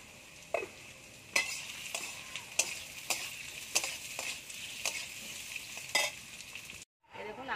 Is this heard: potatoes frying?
yes